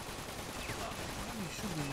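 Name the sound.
gunfire in the video game 50 Cent: Bulletproof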